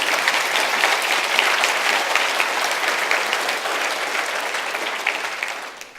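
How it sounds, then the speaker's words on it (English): A steady round of applause from an audience at a political speech to the Fabian Society, dense clapping holding at an even level for the whole stretch before tapering slightly at the end. "I think they deserve a round of applause."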